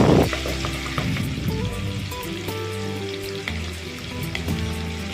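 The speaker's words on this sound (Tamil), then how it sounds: "இப்போ கடாயில் கொஞ்சம் நெய் சேர்த்துட்டு பச்சை மிளகாயும் பெரிய வெங்காயமும் போட்டு வதங்க விடுங்க." Green chillies and onions sauté in ghee in a kadai for a chicken sukka, giving a steady, close sizzle and crackle that runs unbroken for the whole stretch with no voices.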